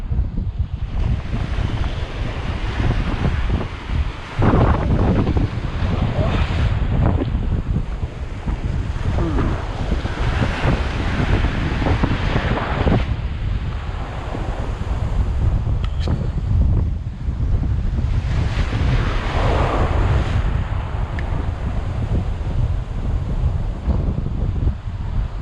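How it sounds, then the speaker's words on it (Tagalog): Strong wind buffeting the microphone over breaking waves at sea while fishing from a boat off the islands of Palawan, a loud continuous roar with surging gusts and no talk. "Malakas ang hangin, malakas ang alon"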